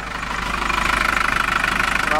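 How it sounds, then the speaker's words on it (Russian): A diesel engine idles close by on a frosty day, just after starting. It gives a steady, loud, rhythmic knocking chug throughout. "Дизелек я завел."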